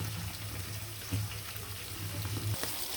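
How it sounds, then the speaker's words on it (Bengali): An eggplant is washed under running tap water, giving a steady close splashing stream with a low hum beneath, no talking. "এদিকে কিন্তু খুব সুন্দরভাবে বেগুনটাও ধুয়ে নিব।"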